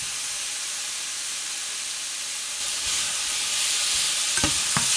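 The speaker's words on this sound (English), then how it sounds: "give it a good mix around so you get everything nice and browned" Minced meat for a Mexican-style mince sizzles steadily in a pan, growing a little louder as a utensil stirs it, with a couple of sharp scrapes near the end and no talking.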